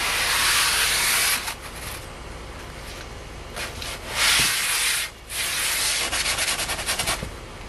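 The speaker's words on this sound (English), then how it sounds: "Sand and screen's cool because it bends to the curve real nice." A sanding screen is rubbed over the curved surface of a homemade skimboard in close, continuous raspy strokes, with a few brief pauses between passes.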